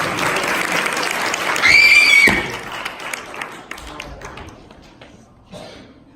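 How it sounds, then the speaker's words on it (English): An audience at a sophomore class school play claps in scattered, uneven bursts, with a sharp whistle-like squeal and a thump partway through, then the clapping thins out and fades toward the end. "You didn't clap hard enough."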